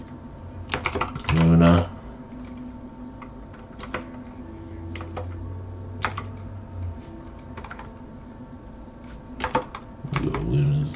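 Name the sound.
computer keyboard clicking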